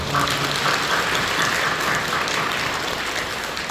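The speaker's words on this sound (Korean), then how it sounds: "박수로 격려해 주시죠" Sustained applause from a large church congregation during a worship service fills the space, an even wash of many hands clapping at once without letup.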